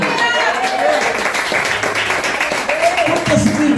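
A church congregation claps steadily throughout, while a voice speaks over the applause.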